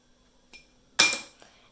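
A coin flipped and landing on a table during a Pokémon trading card game, giving a faint flick and then a bright metallic clink with a short rattle as it settles, close and alone.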